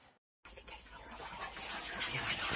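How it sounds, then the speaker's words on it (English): Whispering voices from inside a house in the video game What Remains of Edith Finch, a soft, breathy hiss that begins after a brief silence and gradually grows louder and denser. "At the door, she heard whispering."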